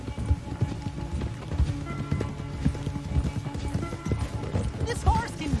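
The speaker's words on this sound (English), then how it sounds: "This horse can go!" A horse gallops in the video game Red Dead Redemption 2, its hooves beating a fast, steady rhythm up close and loud, with game sounds layered over the hoofbeats.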